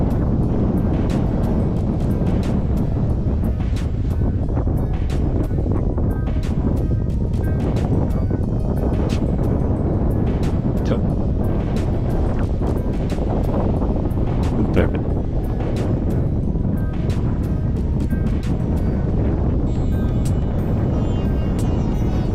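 Strong wind buffets the microphone while paragliding high above hills, a loud, continuous roar with gusty fluctuations throughout, no other distinct sounds standing out.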